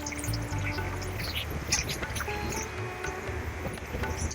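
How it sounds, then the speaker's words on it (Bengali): Water from soaking paneer poured into a pan of cooking butter masala, giving a near, fairly loud splashing trickle over a background sizzle, with no voices. "এখন এই পনির ভেজানোর যে জলটা সেইটা দিয়ে দিচ্ছি।"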